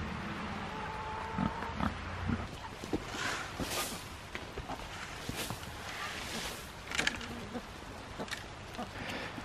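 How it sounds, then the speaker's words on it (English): Pigs grunt and snuffle close by on a farm, in short irregular bursts with rustling and footsteps, someone speaking briefly among them. "You teasing the pigs?"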